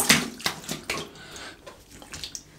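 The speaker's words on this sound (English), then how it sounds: "let me have a little rinse here." Water from a running tap splashes over a Blackland Blackbird safety razor as it is rinsed at a sink, a close, steady gush broken by a few sharp taps of metal against the basin.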